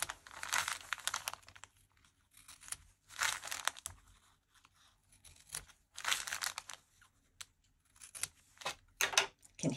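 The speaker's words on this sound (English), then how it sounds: "Now I'm going to clip the corners." Scissors snip the corners of a sewn crinkle-fabric baby tag toy in short bursts of cutting and crisp crinkly rustling, separated by quiet pauses.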